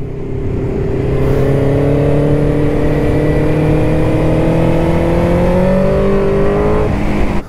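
A Kawasaki Versys motorcycle engine is heard while riding, a loud close steady drone with its pitch rising gradually as the bike accelerates through the gear, continuous over about seven seconds.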